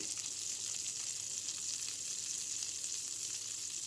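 Köfte meatballs sizzle and fry steadily in a pan while being turned often, a dense, continuous crackle close up with no talking.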